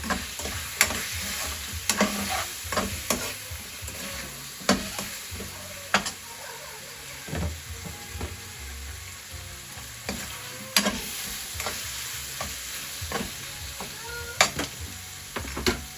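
Chicken creamy soup being stirred in a pan just after a chicken stock cube goes in, with a steady low sizzle and a series of sharp utensil clinks and scrapes against the pan at irregular intervals, close up and with no talking.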